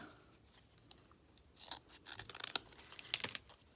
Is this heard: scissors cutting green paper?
yes